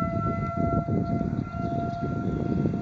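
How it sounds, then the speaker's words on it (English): A tornado civil defense siren sounds a test during a snowstorm, a sustained steady wail carried through muffled outdoor air, with wind and snow noise rumbling underneath. "Siren test in a snowstorm."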